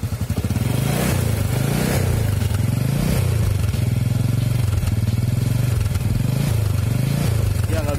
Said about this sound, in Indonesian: Dari Honda Karisma ini harus disela motornya karena akinya habis.